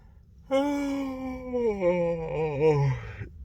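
A single long, drawn-out human yawn rises in a breathy, voiced moan and wavers downward over about three seconds, close and alone.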